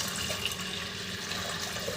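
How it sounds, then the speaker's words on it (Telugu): Water is poured into a pressure cooker holding washed toor dal, giving a short continuous splashing rush of moderate loudness with no talking. "ఇప్పుడు ఇందులో మనం తగినంత వాటర్ పోసేసుకుందాం."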